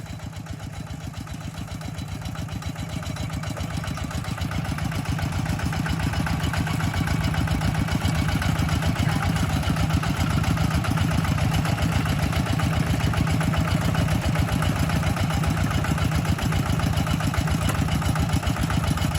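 A tractor engine runs in a flooded rice paddy, its low, steady chug building slightly in loudness and then holding constant and close for the whole stretch, with no talking.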